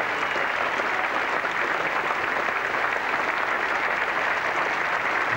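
Sustained applause from a cricket crowd at Edgbaston greeting Tim Robinson's 148 against Australia in 1985, a steady dense wash of clapping throughout, fairly loud and even.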